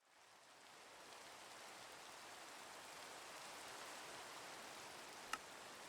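Steady rain in Minecraft, an even hiss of falling water that holds at a constant level throughout with one brief sharp tick near the end, and no voices.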